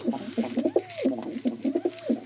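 Pigeons coo close by in repeated throaty, rolling phrases, two bursts each ending in a swooping call, with faint background murmur.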